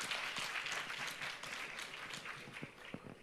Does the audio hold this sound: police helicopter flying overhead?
no